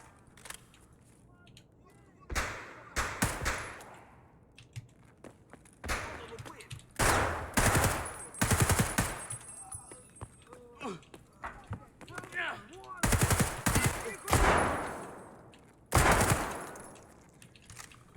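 A DT MDR .308 rifle fires in Escape from Tarkov in repeated loud, close bursts of rapid shots separated by short pauses, with brief stretches of quieter movement between volleys.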